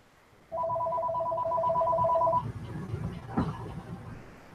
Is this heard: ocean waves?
no